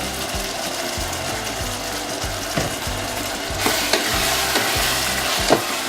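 Strawberries sizzling in a little oil in a pan, a steady loud frying hiss with rhythmic scraping stirs throughout, growing brighter and more intense in the second half.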